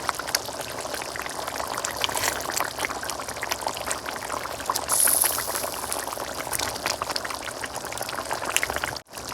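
Jackfruit koftas dropped into boiling curry gravy, a continuous close bubbling and crackling simmer with a brief louder splash midway, no talk.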